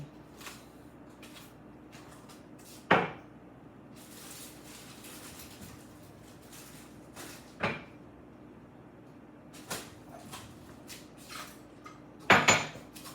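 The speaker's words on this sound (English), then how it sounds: "gonna make me some more tea today." Quiet kitchen sounds while making tea: a few sharp clinks of dishes and cutlery, cupboard knocks and soft shuffling, spaced out over a low steady hum.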